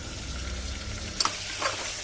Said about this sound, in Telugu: అన్నీ ఇలా కాస్త కలుపుకోవాలి.